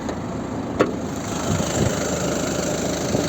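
A 2015 Ford Focus III 1.5-litre diesel engine idles steadily nearby with a low, even diesel rumble and a brief click near the start.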